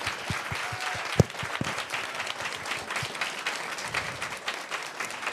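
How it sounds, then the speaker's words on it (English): Audience applause for a panel of designers at a tech event, a steady wash of many hands clapping at moderate distance, with one sharp nearby clap standing out early and the clapping continuing evenly throughout. "let's give another round of applause for our amazing panelists"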